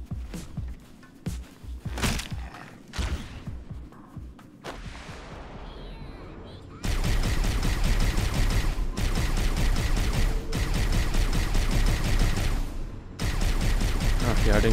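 Weapon fire in Halo: Combat Evolved, with scattered shots and battle noise giving way to long, loud bursts of continuous automatic fire, broken by short pauses.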